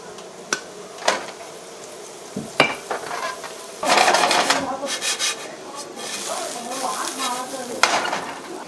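Oil crackles and sizzles as noodles fry until crispy for Cantonese prawn chow mein, with scraping and stirring sounds from a utensil and a few sharp knocks against the pan.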